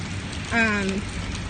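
Steady rain hisses on the streets of downtown Hillsboro, Texas, as a close, even wash of noise, with a brief spoken sound rising over it for a moment.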